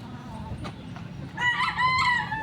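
A fighting cock, one with a wingban, crows once with a loud, harmonic call across the second half, preceded by soft clucks over a low background murmur.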